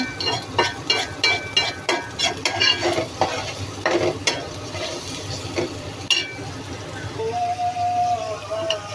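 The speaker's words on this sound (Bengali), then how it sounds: "এগুলো কষতে থাকুক, না কষলে এগুলো নুন মরিচের মশলার ঘ্রাণটা যাবে না" Onion, turmeric and chili spice masala stir-fried in a pan, with steady sizzling and repeated scraping stirs of a utensil against the pan in an uneven rhythm, close and fairly loud.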